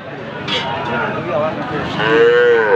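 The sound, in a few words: bull calf mooing at cattle market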